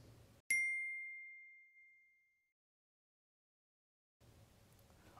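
A single bright notification-bell ding rings out clearly, then sustains and fades over about a second and a half, set against near silence with faint background noise before and after.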